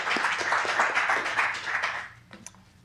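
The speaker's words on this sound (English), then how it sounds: "Let's give him a great round of applause and welcome him here to the Bayview Garden" Audience applause welcoming a poet at a 1997 poetry recital in the Bayview Garden at the San Francisco Public Library: a steady wash of clapping for about two seconds that then thins out into a few scattered final claps.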